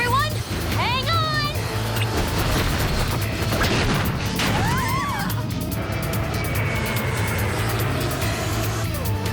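Cartoon aircraft crash landing effect in an animated spy show: loud, dense burst of crashing, booming and mechanical clatter with whooshing sweeps, sustained throughout under overlapping dramatic music.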